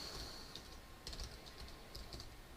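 Quick, irregular clicks of keys being typed on a computer keyboard during a programming lesson, with a short pause and then another burst of keystrokes. Soft and close in a quiet room.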